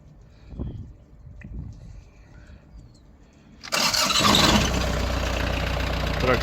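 A cold Kubota Saturn X-20 mini tractor diesel engine is cranked after a few quiet clicks and knocks, fires abruptly and settles into a loud, steady rattling idle close by.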